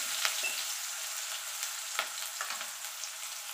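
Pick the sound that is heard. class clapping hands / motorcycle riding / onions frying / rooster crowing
onions frying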